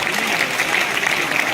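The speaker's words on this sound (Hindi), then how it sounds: "इसके लिए आप क्लैपिंग बजा सकते हैं" Audience clapping at a stage business presentation, a dense, even patter of many hands that carries steadily with no talk over it.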